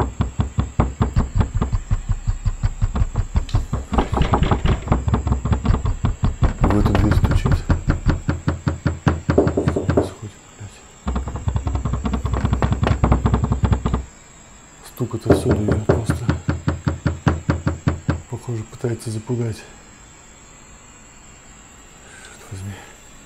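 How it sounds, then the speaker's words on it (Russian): Rapid repeated knocking on a door in a horror scene, dense rattling bursts in long runs that break off and restart, loud and close, with a voice speaking at times. "Опять застучал в двери."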